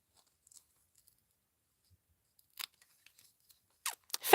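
Scissors snipping through paper while a paper beetle is cut out, a few isolated crisp snips after a long quiet stretch, then a quick cluster of close, louder cuts at the end.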